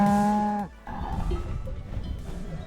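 Cattle mooing at a mountain pasture along a trail: one long, loud, close moo with a rich droning tone opens, then breaks off into rustling outdoor ambience and footsteps.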